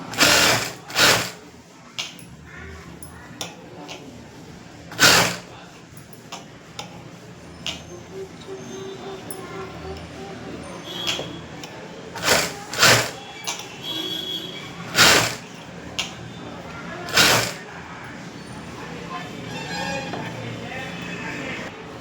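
A sewing machine stitches along fabric lining in repeated loud mechanical bursts separated by quieter pauses, with a voice talking in between.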